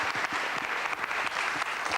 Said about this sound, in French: On l'applaudit, on l'encourage, Jean-Pierre.